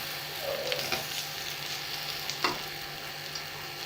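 Cooked chana dal and potatoes are lightly mashed in a pan, producing soft scraping and squishing strokes over a low, steady background hiss, with a couple of slightly louder pressing sounds.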